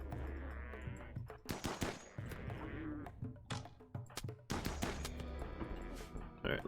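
Rapid automatic gunfire in RimWorld aimed at a dragon, loud repeated bursts of shots with short pauses between volleys, a steady low rumble underneath.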